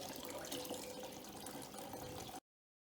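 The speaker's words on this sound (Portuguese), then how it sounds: "Você vê que uma boa parte do soro foi colocada no escorredor" Whey from buffalo-milk mozzarella curd pours steadily into a strainer, a continuous close splashing trickle of liquid that runs for a couple of seconds and then stops abruptly.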